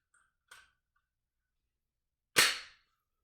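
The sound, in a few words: Glock trigger dry fire click with a laser training cartridge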